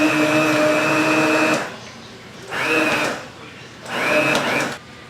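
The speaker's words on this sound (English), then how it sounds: "I'm just going to use my hand mixer and blend those mushrooms up into chunks" A handheld mixer purees mushrooms in vegetable broth for a chunky mushroom soup. It whirs steadily and loud for about a second and a half, then runs in two shorter bursts with brief pauses between.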